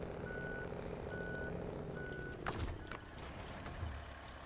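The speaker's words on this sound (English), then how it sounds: "we're going to go ahead and back up to our other trailer and connect" A truck's reversing alarm in the Snowrunner video game, steady evenly spaced beeps while backing up to a trailer, over a low engine rumble and a couple of sharp clanks.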